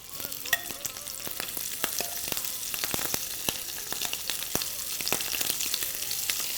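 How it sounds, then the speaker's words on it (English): Shrimp sizzling in olive oil in a pan makes a steady, bright frying hiss. Scattered crisp pops and light stirring clicks sit over it, close and fairly soft. "And I'll add a tiny bit more olive oil to this, just a splash. And then we're going to put the rest of the shrimp in here."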